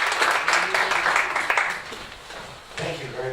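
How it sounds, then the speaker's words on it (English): An audience applauds a speaker named David at a PhD workshop, a dense wash of clapping for about two and a half seconds before it fades, then a brief burst of noise near the end. "a round of applause for David"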